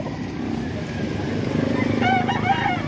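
A young Gilmore gamefowl rooster, about eight months old, crows near the end amid a busy outdoor yard with background chatter and clucking; the harmonic call rises briefly and moderately loud.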